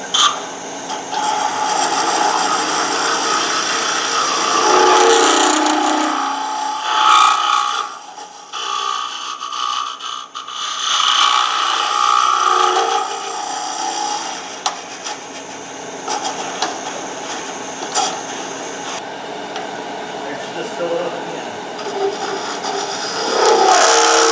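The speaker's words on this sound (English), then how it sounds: "when I come in here with my round point scraper, I can clean out the bottom and get my round bottom that I want" A round point scraper cuts inside a wooden shot glass spinning on a lathe, a continuous harsh scraping whir that rises and falls as the tool works the bottom, with no talk.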